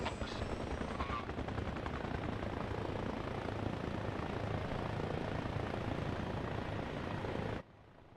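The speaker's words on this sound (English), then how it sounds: "There's too many helicopters." Several helicopters in Arma Reforger drone together as a dense, continuous rotor roar, steady and fairly loud, before cutting off abruptly near the end.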